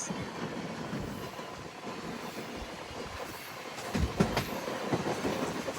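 A MEMU passenger train between Renigunta and Nellore rolls steadily along the rails, a continuous rumble with faint clickety-clack and a brief louder burst of wheel noise near the end, no voices.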